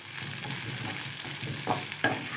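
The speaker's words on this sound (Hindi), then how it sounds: "भिंडी और आलू जो है ये पक रहे हैं मक्खन में" Okra and potatoes cook in butter, giving a steady close sizzle with a couple of brief stirring scrapes near the end.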